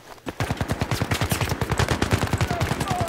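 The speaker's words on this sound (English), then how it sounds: "So boys, start shooting again in any direction." Rapid automatic gunfire in Battlefield 3, a close, loud and steady stream of evenly spaced shots that runs almost the whole time.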